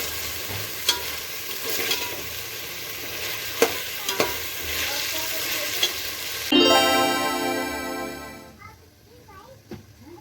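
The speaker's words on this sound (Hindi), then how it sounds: "अब हम गैस की फ्लेम को ऑन करके पतीले को गैस पर रख देंगे और वेजिटेबल्स को अच्छे से भून लेंगे" Marinated vegetables for masala veg pulao fry in a pot on a gas stove, with a steady sizzle and occasional spatula knocks, briefly overtaken by a loud, whining tonal sound before the frying fades lower.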